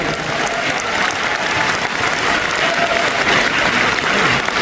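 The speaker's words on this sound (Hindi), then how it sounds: "इसके लिए ताली भी बजा सकते हैं" Applause from a large audience at a business gathering, steady dense clapping filling the whole stretch at a loud, even level with no speech over it.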